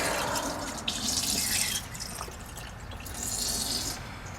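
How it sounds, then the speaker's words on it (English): Old transmission fluid draining from a 1997 Subaru Legacy into a drain pan, a close, continuous liquid trickle and splatter that swells and eases over a few seconds. "I'm just going to let that drain out and drip for a bit"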